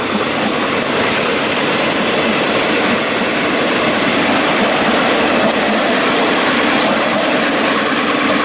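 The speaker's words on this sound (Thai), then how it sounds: "ขบวนประจำของเรารอบเช้านะครับกำลังออกจากสถานีรถไฟช้าๆนะครับ" A morning passenger train departs slowly from Chiang Rak Noi station in Thailand, rumbling steadily nearby with broad continuous noise and faint rail clatter, loud and unbroken.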